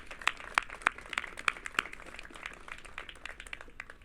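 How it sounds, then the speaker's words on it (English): Scattered applause from a small outdoor crowd at a library groundbreaking for the mayor, a few loud claps standing out near the start before the clapping thins into fainter, sparse claps. "I want to give you another round of applause to the mayor"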